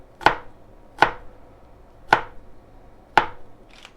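A knife chops through food on a cutting board while making horizontal slits for creamed spinach, four sharp, separate cuts landing roughly a second apart, close and clear, with no talk.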